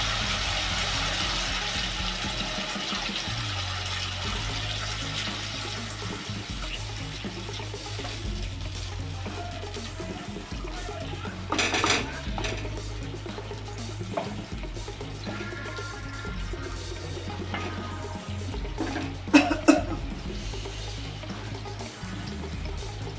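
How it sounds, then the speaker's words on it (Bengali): Spice-mixed water poured into a pan of pabda fish curry, a soft continuous trickle and splash over a low hum, with a couple of brief clatters along the way. "এই যে মিক্সিং হওয়া জলটা আমি দেবো।"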